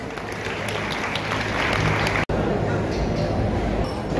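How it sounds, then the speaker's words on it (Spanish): Crowd applause at a boxing event, a dense continuous wash of clapping with a brief dropout midway, then resuming just as full. "Muchas gracias, un aplauso."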